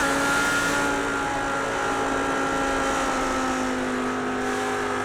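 Race car engines from an Audi and a BMW battling in a sportscar series race at Road America, a steady, loud sustained drone with a constant high whine and no pauses.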